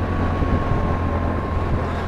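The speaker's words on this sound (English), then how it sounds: "Love the sound of that engine." A BMW R 1150 GSA motorcycle engine drones steadily at highway speed, a low, continuous rumble heavily mixed with loud wind rush, with no talking.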